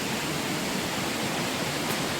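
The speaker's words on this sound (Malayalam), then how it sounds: "വെള്ളച്ചാട്ടം അടുത്തെത്തി" A hidden waterfall roars nearby as a dense, steady wash of falling water, with no other sounds.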